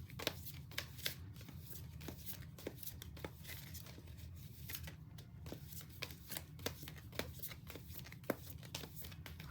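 Tarot cards are shuffled by hand in quick, riffling bursts, a dense run of soft papery flicks and slaps, close and fairly quiet, with no one speaking.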